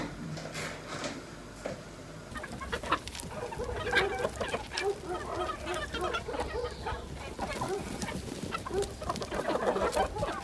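A flock of hens in a backyard clucks steadily throughout, with overlapping calls and scattered squawks at moderate distance, no voices present.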